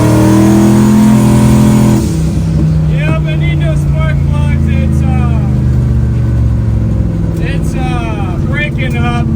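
A no-prep drag racing car reversing with its engine revving hard, a loud, close, steady drone that swells and dips; the engine runs rough and breaks up slightly, with fouled spark plugs.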